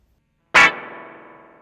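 A homemade analog spring reverb, damped with a sponge pressed into the springs, struck once: a loud metallic crash followed by a short, ringing, slightly distorted tail that fades over about a second, with no talking.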